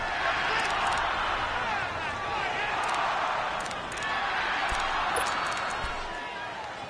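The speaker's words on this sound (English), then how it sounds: "The crowd getting into it as we come up on a big 3rd down" Crowd noise swells steadily from stadium stands in a PS4 football game as a big third down approaches, a dense, continuous roar held at a constant level under a commentator's voice.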